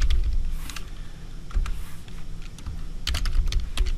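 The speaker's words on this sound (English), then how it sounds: "We just simply type their name." Typing on a computer keyboard as a brand name is entered into business software, a few quick bursts of close key clicks separated by short pauses, with no voices.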